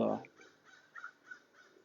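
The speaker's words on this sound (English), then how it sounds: "I hear a crow in the background. That's an American crow." An American crow caws several times in the background, faint and spaced out, after a louder burst of sound at the start, in an outdoor walking setting.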